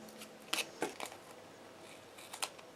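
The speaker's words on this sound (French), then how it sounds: "Je coupe l'excédent." Scissors cut away the excess of an adhesive sheet for a card, producing a few short, crisp snips close by with quiet pauses between.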